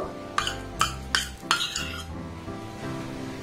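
Spoon clinks and scrapes against a bowl as sweet ingredients are worked into cooked palm fruit pulp, a few sharp strikes followed by softer, steady stirring up close.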